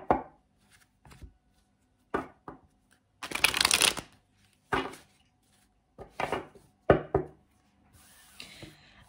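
Several separate bursts of tarot cards being shuffled and riffled, close and crisp, with brief quiet gaps between each shuffle.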